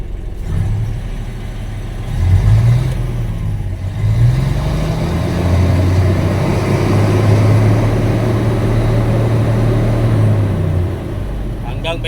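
An Isuzu 6UZ1 diesel engine with a low power problem cranks and runs at a steady idle, then revs up and down in a low rumble, close by and loud, with people talking over it.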